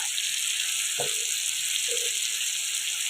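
Chicken frying with salt in a pan, a loud, steady, dense sizzle throughout with a couple of brief stirring knocks.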